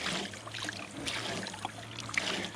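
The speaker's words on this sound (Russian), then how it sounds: "Делаем такую грубую промывку, пока что в большом тазе" Water sloshes and trickles faintly and continuously as wood-ash sediment is roughly rinsed in a large basin, a soft, low-level washing noise with no talk.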